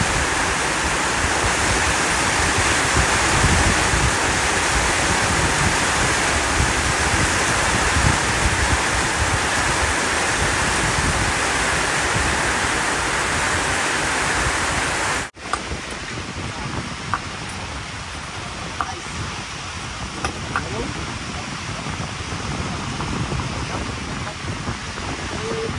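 Heavy rain pours down steadily in a loud, dense wash during a storm at a fishing spot, then cuts abruptly to a quieter outdoor scene with lighter rain and scattered small sounds.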